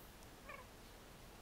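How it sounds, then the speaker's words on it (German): A cat in The Sims 4 gives one short, soft meow, faint and brief amid near silence, followed by a sudden louder click at the end. "Du weißt, dass es eine Katze ist"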